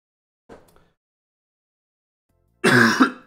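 A person who is a little ill coughs once briefly and softly, then after a pause gives a louder, harsher throat-clearing cough, close up in a quiet room.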